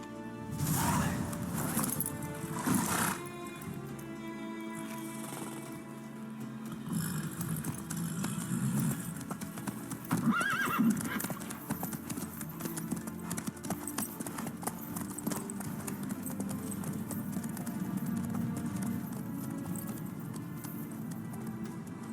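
Hooves of a horse in The Witcher 3 clip-clop steadily and close at a galloping pace, layered over continuous game music and ambience for the whole stretch, with no talk.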